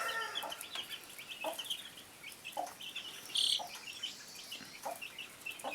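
Chickens on a homestead clucking softly in short scattered bursts, with a brief brighter squawk midway, heard close by outdoors with no talking.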